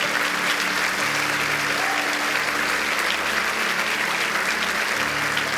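A church congregation gives a long, loud round of applause during worship, a continuous roar of clapping over a low sustained hum from the sound system or organ.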